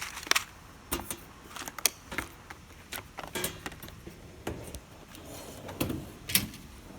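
Tool box drawers in a Snap-on tool chest slide and clatter several times in quick succession, with sharp metallic knocks and rattles of tools inside, close and fairly quiet.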